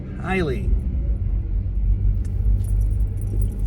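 A low, continuous car interior rumble runs steadily throughout a drive home, with a brief sweeping tone near the start and a few faint clicks later on.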